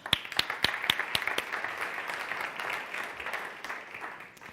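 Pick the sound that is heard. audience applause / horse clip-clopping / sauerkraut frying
audience applause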